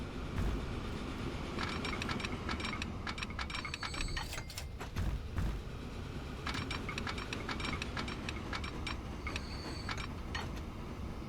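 Train passing in the video game Transport Fever 2, a steady rolling rumble with rapid clicking clatter throughout, fairly faint.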